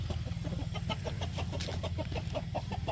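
Chickens clucking in quick repeated bursts over a steady low background rumble, close and moderately loud, with no talking.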